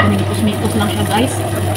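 Cabbage with hotdog and egg being stir-fried in a pan, a steady close sizzle with scraping stir strokes throughout, no talking.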